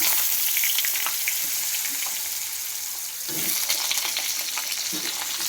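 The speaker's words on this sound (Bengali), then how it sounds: "জিরাটা লাল হয়ে গেছে, এবার আলুটা দিয়ে দিই।" Potatoes dropped into hot oil with browned cumin seeds, a loud continuous sizzle and frying hiss with a brief dip and a fresh burst of crackling as they hit the pan.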